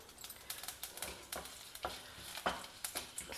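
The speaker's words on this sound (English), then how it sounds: "Stir them till the dal is getting a golden brown color." Urad dal, dry red chillies and curry leaves sizzle steadily in hot oil while a spoon stirs through them in repeated scraping strokes, close and fairly quiet, with no voices.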